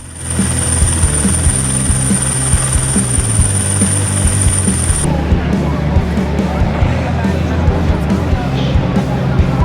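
A helicopter hovers near power lines airlifting a line worker, its rotor beating in a loud, steady thump with turbine whine, the tone changing abruptly midway; faint voices murmur beneath.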